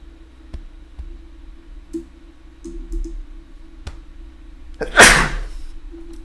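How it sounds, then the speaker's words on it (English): A single sharp, loud sneeze bursts out near the end after a stretch of quiet room tone dotted with faint clicks and ticks. "Gotta sneeze."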